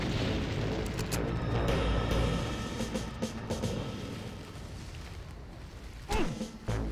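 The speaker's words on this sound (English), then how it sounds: "Oh, because they're shooting me from above." Enemy gunfire from above in Far Cry 1 comes as scattered booming shots and bursts over a rumbling background, with a sharper blast near the end.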